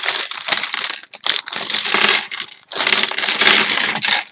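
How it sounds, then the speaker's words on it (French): LEGO City Prison Island pieces shaken in a plastic bag: loud bursts of dense rattling and crinkling plastic, separated by short pauses, close up and with no talking. "Vous aurez toujours l'expérience ultime d'avoir un gros bruit de pièces dans les oreilles"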